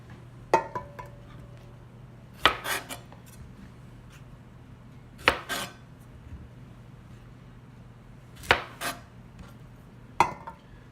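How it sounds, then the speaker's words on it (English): Rinsed okra pods sliced with a knife in a home kitchen: sparse, crisp cutting clicks against a board, five or so separated strokes over a low steady hum, close and fairly quiet. "We've got our okra pods rinsed and we're starting to slice them up"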